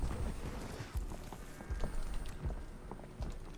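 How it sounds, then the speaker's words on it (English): Footsteps in a video game: a run of soft, thudding steps at an irregular walking rhythm, fairly close, over low game ambience. "I can hear footsteps, but don't know where they are coming from."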